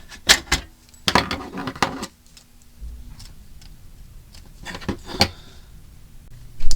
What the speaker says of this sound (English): So I'm just going to cut a bunch off.